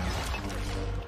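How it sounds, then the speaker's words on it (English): Rocks are smashed during the Obi-Wan Kenobi versus Darth Vader fight scene in a dense, loud burst of crashing and crumbling that lasts about a second. "Smashing some rocks."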